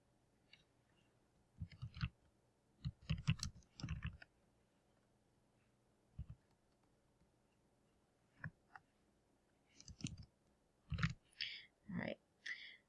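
Sharp mouse clicks and light desk taps come in small clusters, faint and close in a quiet room, while exporting an image in Photoshop.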